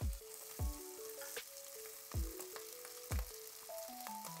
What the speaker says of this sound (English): Fry the rice till they are translucent.